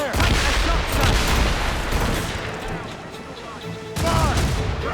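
Naval cannon broadside fire in the video game Assassin's Creed Rogue: heavy, continuous booming volleys and rumbling blasts, loud and dense, with shouted voices over the barrage and a fresh loud salvo near the end.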